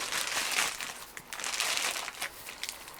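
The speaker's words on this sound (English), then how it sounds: "Go ahead and open your bag." A plastic bag holding a block of pottery clay being opened, giving close, soft crinkling and rustling with a few sharper crackles that flow on steadily without speech.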